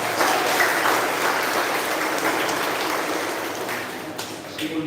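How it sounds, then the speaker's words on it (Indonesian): A congregation applauds inside a chapel after a Trinity Sunday Mass, a full, steady patter of many hands clapping that gradually softens over a few seconds. "Maka mari kita beri tepuk tangan"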